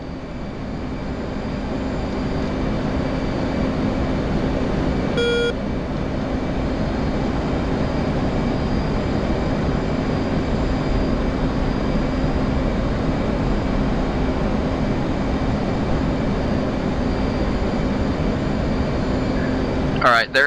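Aircraft engines drone steadily through a long in-flight stretch in a military mission video game, a constant loud hum from start to finish with a brief click partway through.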